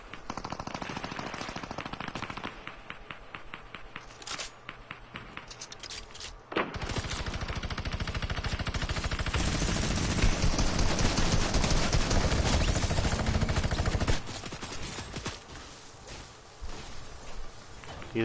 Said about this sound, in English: I hear firing next to us.